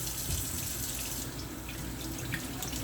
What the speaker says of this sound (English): so you want to wash all that dirt off